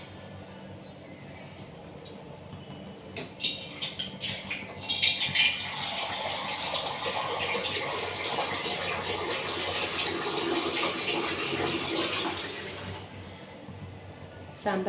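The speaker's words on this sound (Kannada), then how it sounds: "ಅದಕ್ಕೆ ಇನ್ನೊಂದು ಸ್ವಲ್ಪ ನೀರು ಹಾಕ್ತಾ ಇದ್ದೀನಿ" Water poured into lentil sambar in a home kitchen, a soft, steady splashing flow that rises after a few seconds and runs for several seconds before stopping, fairly close but modest in level.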